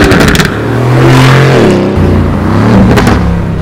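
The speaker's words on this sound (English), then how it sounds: "this twin turbo V8. It makes 527 horsepower," Aston Martin F1 Edition with a 527-horsepower twin-turbo V8, engine revving loudly up and down, a dense, roaring exhaust note with rising and falling pitch, close and continuous.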